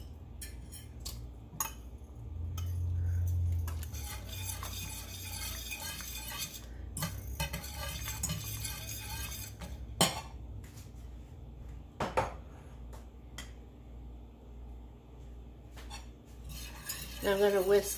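Cream cheese cubes whisked into warm milk in a pan for a cheesy cauliflower dish, with repeated metallic clinks and scrapes of the whisk against the pan, fairly close, some louder taps scattered throughout.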